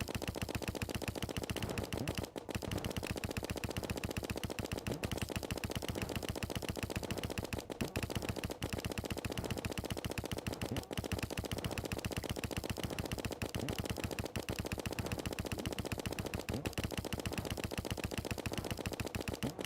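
A gun in the video game Terraria firing nonstop, a rapid machine-gun-like rattle of shots in an even rhythm, loud and unbroken for about twenty seconds, with no talk.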